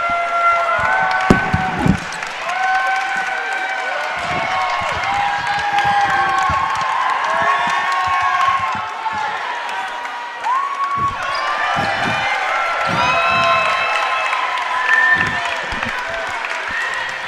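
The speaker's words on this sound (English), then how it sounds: "A nice roar from the crowd" A crowd roars and cheers in a high school basketball gym during a Geneva vs. St. Charles East game, loud and sustained throughout with bursts of voices and scattered thumps and claps.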